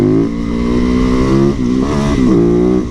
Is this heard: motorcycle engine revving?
yes